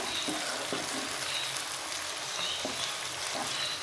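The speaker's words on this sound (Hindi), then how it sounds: "इस तरह से मैंने प्याज चॉप किया है और इसे लाइट ब्राउन होने तक मैं इसे पकाऊंगी।" Chopped onions fry in a pan, cooking toward light brown in a home kitchen while preparing mixed dal, giving a steady, close sizzle with faint stirring ticks and no talk over it.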